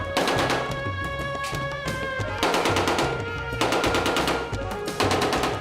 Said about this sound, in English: No one bats an eyelid here as gunfire racks the streets